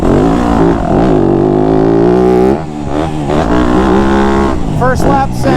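Dirt bike on a wooded motocross track with tabletop jumps, its engine revving loudly up and down close by as it launches over the jumps, with a rider's voice over it.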